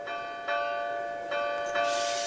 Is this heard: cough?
no